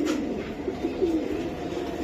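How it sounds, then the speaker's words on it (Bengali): A female racing pigeon, raced with a limited club in 2023, gives a few short, low coos close up over a steady murmur of background noise. "এই যে একটা মাদি কবুতর একটা পাওয়ারফুল মাদি এটা একটা রেস করা কবুতর"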